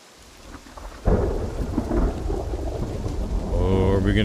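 Thunder and steady rain in the Project Zomboid survival game, a loud crack of thunder at about one second giving way to a rolling rumble over constant rainfall, close and continuous, with no talking.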